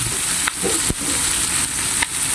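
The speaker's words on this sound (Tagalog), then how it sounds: "Ilalagay na natin yung maraming sibuyas at saka bawang." Lots of onion and garlic frying in hot oil, a loud continuous hiss with a few sharp knocks of a utensil against the pan, no talk.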